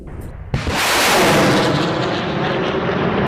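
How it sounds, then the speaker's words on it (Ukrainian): A single heavy enemy artillery blast booms out close by in the war in Ukraine, followed by a long, loud rumbling roar that rolls on and slowly fades. "Іменно артилерія противника."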